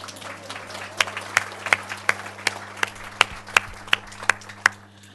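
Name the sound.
conference audience applause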